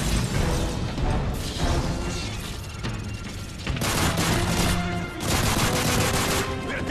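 Heavy automatic gunfire in Call of Duty: Modern Warfare 3 comes as loud, close bursts and sustained volleys with crashing impacts, pausing briefly before erupting again.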